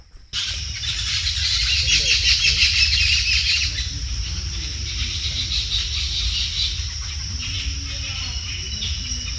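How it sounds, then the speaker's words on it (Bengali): Birds chirp and twitter in Bhawal National Park forest, Gazipur, Bangladesh, over a steady hiss of rain and insect buzz, with brighter calls early on. "আশেপাশে কি সুন্দর পাখিটা কিচিরমিচির করতেছে"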